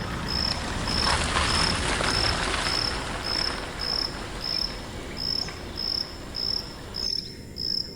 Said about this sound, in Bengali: চতুর্দিকে ঝিঝি পোকার ডাক